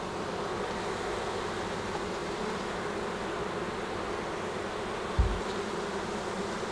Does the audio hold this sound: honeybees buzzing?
yes